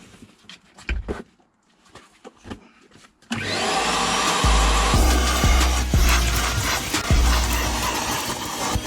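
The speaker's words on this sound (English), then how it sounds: "We'll just hoover up the thick of this dirt first" Household hoover switching on and sucking dirt from the carpet of a Sierra Cosworth with the seat removed, a loud close steady whine after a few quiet scuffs and knocks, with the nozzle thudding and scraping rhythmically over the carpet.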